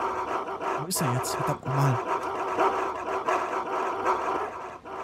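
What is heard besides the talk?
dog barking in the video game DayZ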